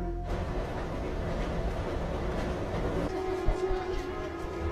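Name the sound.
train moving, interior rumble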